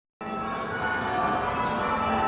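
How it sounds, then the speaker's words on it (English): Church bells ring close by in a village churchyard, a rich sustained metallic clang starting abruptly after a brief silence and holding steady and loud throughout. "Then, close by, the church bells started ringing."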